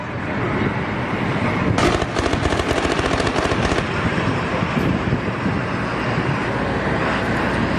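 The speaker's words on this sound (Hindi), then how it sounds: "सरकारी इमारतों पर बड़े हमले लगातार जारी हैं, एक के बाद एक फायरिंग हो रही है।" Gunfire in Aleppo, Syria, a dense continuous roar of rapid shots and crackling bursts, loud and sustained with a sharper volley in the middle, under a steady wash of background noise.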